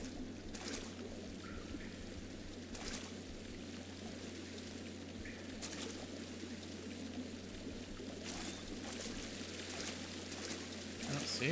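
Footsteps splash through water in the Amnesia video game, a few soft sloshing steps spaced apart over a constant low ambient hum.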